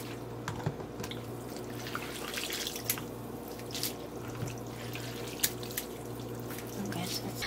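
Water runs steadily from a kitchen tap while soaked pancit bihon rice noodles are rinsed, a continuous faint splashing hiss with small clicks and drips.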